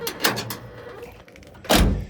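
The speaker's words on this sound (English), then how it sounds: "You just give it a nice little shut and it shuts right." The door of a square body Chevy truck shuts with a solid low thunk near the end, preceded by some handling rattles and clicks, close and fairly loud.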